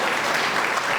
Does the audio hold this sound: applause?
yes